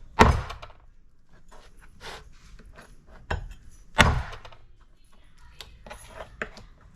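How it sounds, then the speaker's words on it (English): Several sharp, heavy chops of a cleaver cutting through bone strike a chopping board at irregular intervals, with quiet handling sounds between them. "cleaver that can cut through the bone, so we're going to go ahead and just do that"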